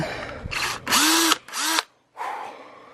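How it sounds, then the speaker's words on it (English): A power drill with a bit spins up in several short bursts, each a loud, close whir that stops abruptly, with brief quiet gaps between runs. "Let's put this drill bit in the hole right there, right? And then we tighten it up."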